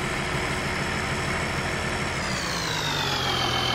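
A tractor engine in Farming Simulator 19 rumbles steadily at a low idle, close and continuous, with a slight pitch rise near the end as it revs.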